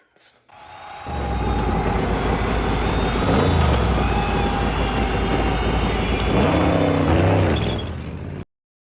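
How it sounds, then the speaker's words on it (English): Loud, steady engine roar with a whining mechanical drone, swelling as several stock cars in a racing video game rev and pull away at Las Vegas Motor Speedway, then cutting off abruptly. "Drivers, start your engines."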